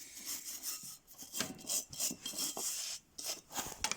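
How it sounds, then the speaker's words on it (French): Small knife and brush scraping and scrubbing soot from the flue cover at the base of the draft shafts of a Rika Evo Aqua pellet stove, giving close, irregular raspy strokes with brief pauses. "le capot qui est à la base des puits de tirage, donc à l'aide d'un petit couteau et d'une brosse"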